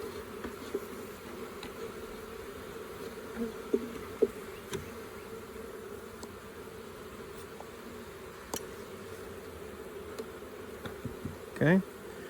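Honey bees buzzing steadily around an open hive while a package of bees is installed, a continuous close drone with occasional louder passes and small knocks of frames.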